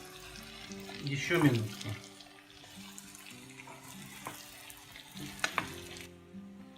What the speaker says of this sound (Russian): Хорошенько перемешиваем. И даем прожариться